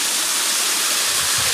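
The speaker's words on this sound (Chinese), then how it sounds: "但是我怀疑这是人工瀑布吧？" Waterfall at Chengde Mountain Resort, a small cascade that may be artificial, giving a close, loud, steady hiss of falling water with no voices.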